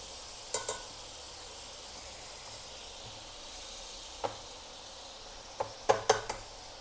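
Butter sizzling in a hot pan, a faint steady hiss with a few sharp clicks and crackles near the end, no voices.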